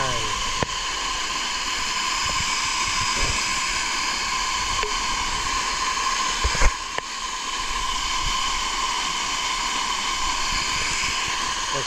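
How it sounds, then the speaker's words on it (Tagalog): Pantihan Falls roars as a steady, broad rushing wash of water heard from below the falls, constant and loud throughout with a few brief knocks over it. "Ilalim kami ng falls. Ito ay Pantihan Falls."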